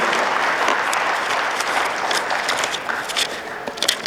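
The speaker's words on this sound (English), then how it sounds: "Guys, big round of applause for our amazing" Steady applause fills a gala ballroom as guests clap for donors, dense and sustained throughout with a few sharper claps rising near the end, no voices standing out.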